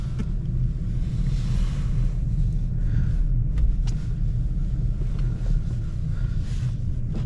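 A manual rear-wheel-drive car pulling away in snow in second gear: a continuous low engine and tire rumble, steady and fairly close, with faint wind-like noise and no talking.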